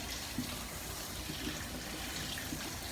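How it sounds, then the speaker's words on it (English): Water runs continuously from a tap, splashing over a wood panel as a photo transfer is washed off, a close, steady rushing sound with small irregular splashes. "What I do is kind of like give it a good wash every few seconds."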